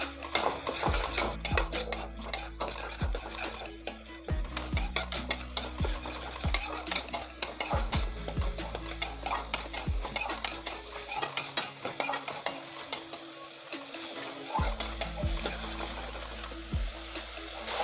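Ground spice paste from a mixer jar stirred and fried in a pan for an okra recipe: repeated metal utensil scrapes and clinks against the pan in an uneven rhythm, close and fairly loud, with no talk.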